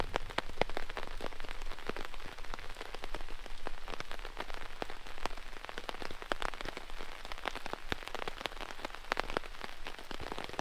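Steady rain patters on surfaces around a campsite, dense and continuous with scattered sharper drops striking close by, no voices over it.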